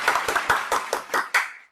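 Seven sharp hand claps in a steady, fairly quick rhythm, close and moderately loud, with nothing else around them.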